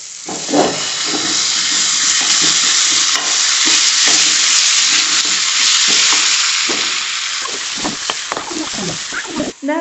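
Small-chopped vegetables sautéing in a pan with onion and tomato, a loud, continuous close sizzle with stirring scrapes throughout, no talking.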